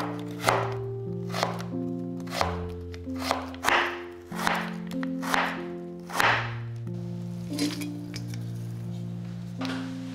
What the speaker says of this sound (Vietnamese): Tiếp theo mình xắt lại thành từng thanh dài như thế này.